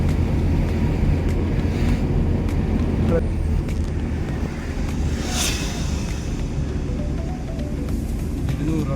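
Steady motorbike engine drone mixed with rushing wind noise as it rides along, with someone talking over it.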